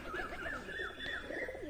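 Roller pigeons (Giribaz) cooing close by at a home loft, soft repeated rolling coos layered over a faint background hiss.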